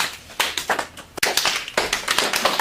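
Scattered, hesitant hand claps from a talk-show audience at a comedy event, a handful of separate sharp slaps spread unevenly rather than building into full applause.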